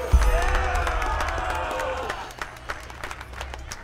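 Crowd applause with scattered cheers in the Enderal Skyrim mod, steady clapping that thins out over a few seconds, with a voice talking over it.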